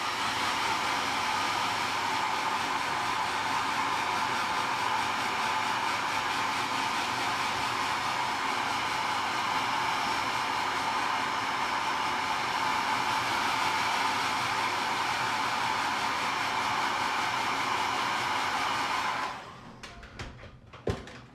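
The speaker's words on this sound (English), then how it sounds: "Excuse the noise of the hairdryer." A hair dryer roars steadily at close range for about nineteen seconds, then switches off, leaving a few faint clicks and handling noises.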